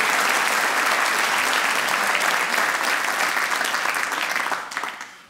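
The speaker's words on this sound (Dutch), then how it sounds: "Geef een daverend applaus voor Steven van Herwegen." A live comedy show audience gives thunderous applause, a dense, loud, continuous clapping that holds strong and then tapers off quickly at the end.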